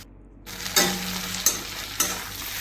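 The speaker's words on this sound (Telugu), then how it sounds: "సో లో ఫ్లేమ్లో పెట్టుకొని అలా కొంచెం ఫ్రై చేసుకోవాలి" Okra frying in a pan over a low flame: a steady sizzle with three distinct stirring scrapes spaced roughly evenly, close and fairly loud, with no talk.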